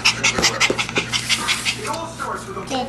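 Puppies panting with rapid, rhythmic breaths close to the microphone, while people talk and coo softly over them.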